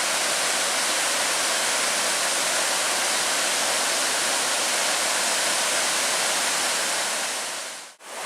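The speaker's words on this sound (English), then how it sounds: "Got a couple of nice little waterfalls." Small waterfalls along a river on a backpacking hike give a steady, full rush of falling water, loud and unbroken, with a brief dip right at the end.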